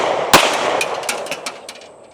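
A Mossberg MC2C pistol fires a single loud, sharp shot close by, followed by a sequence of fainter cracks and echoes trailing off in an outdoor setting.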